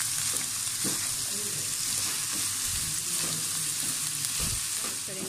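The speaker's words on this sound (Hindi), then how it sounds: "अब हम इसको अच्छी तरह से भून लेंगे इस तरह से।" Egg fried rice with salt and chicken powder sizzles steadily in a pan, a continuous loud hiss broken by repeated scraping stirs from a utensil, close up with no talking.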